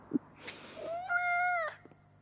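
A cat meows once in the video game Life is Strange Double Exposure, a single drawn-out rising and falling call that is clear and fairly close, with a soft click just before it and no talk over it.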